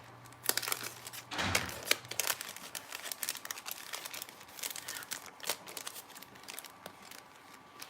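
Stickers and their backing sheets crinkle and rustle as they are handled close by, in a run of soft, irregular crackles and crisp rustling bursts over a quiet room, with no talking.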